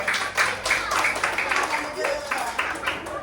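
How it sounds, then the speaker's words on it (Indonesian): A classroom group claps for Topji in a steady burst of quick, close handclaps lasting about three seconds, with voices mixed in under the clapping. "Tepuk tangan untuk Topji."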